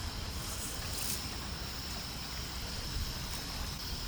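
Water pours into a pot of skinless chicken pieces to boil them, making a steady, close, continuous rushing splash with no pauses.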